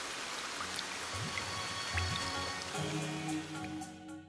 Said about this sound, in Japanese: おまけにすごい雨だ。